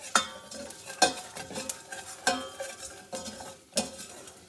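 A spoon knocks and scrapes around a pan several times, stirring a mango, jaggery and fenugreek seed mixture with turmeric and paprika, with sharp clinks at irregular intervals over a faint sizzle.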